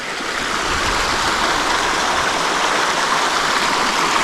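A river rushes along in a steady, loud broadband wash of flowing water, close and continuous with no voices over it.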